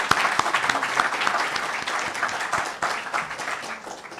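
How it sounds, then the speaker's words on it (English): A conference audience applauds steadily throughout, a dense wash of clapping at close range with no voices. "let's give them another round of applause"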